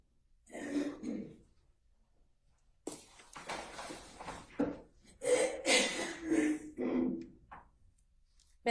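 In a courtroom, a woman coughs and clears her throat several times with quiet gaps between the bursts, close and fairly distinct, with no speech.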